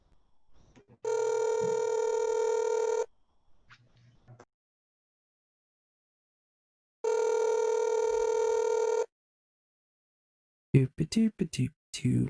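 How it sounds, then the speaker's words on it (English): A telephone ringing out on an unanswered cold call, two long steady ring tones separated by silence, fairly loud, followed by a short burst of clicks or handling noise at the end. "We're going to be calling Alex here. We're cold calling him"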